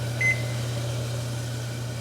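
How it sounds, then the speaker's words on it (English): A microwave oven hums steadily while a timer is set on it, with one short, clear beep near the start over the constant drone. "I'm going to put my timer on for 7 minutes."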